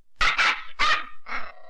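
A dog barks in a film scene, three quick close, loud barks followed by a softer fourth, alone with no talk.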